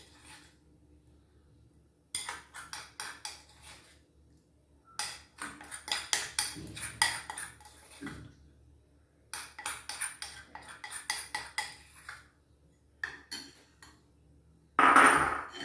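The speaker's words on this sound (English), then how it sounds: "Give it a quick stir." Melted soap base stirred with a utensil in a bowl while making shea butter ubtan soap, light scraping and clinking strokes coming in several bursts with short pauses, ending on a louder clink.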